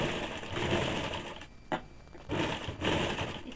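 Sewing machine stitching a double seam along a woolen baby frock, a steady mechanical whir in two bursts broken by a short pause with a single sharp click.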